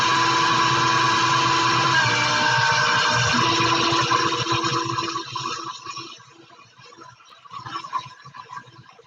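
An electric stand mixer whirs loudly and steadily while creaming butter for butter flower cookies, then winds down and cuts off about halfway through, leaving quieter clatter and faint room noise.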